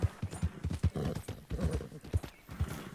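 Horse hooves in Red Dead Redemption 2 clop in a quick rhythmic gallop as the horse is ridden, each beat distinct and close, with a faint snort in the mix and no talk.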